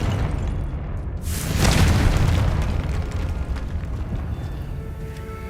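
Confringo spell blast in Hogwarts Legacy, a single booming explosion that swells after a second, then fades into a long, rumbling tail.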